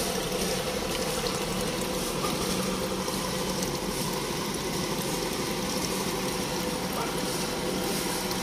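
Diesel drains from a boat's fuel tank during tank cleaning. A steady, continuous rushing whir of pumping and flowing fuel holds at an even loudness, with faint voices in the background.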